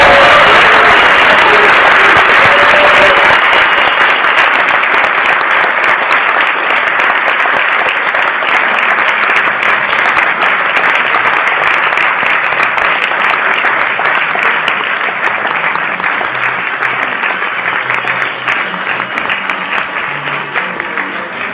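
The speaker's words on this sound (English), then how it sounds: "Please join me in a round of applause for them as they share their first kiss." Wedding audience applauding a newlywed couple's first kiss, dense sustained clapping from a crowd, loud and steady, tapering slightly toward the end.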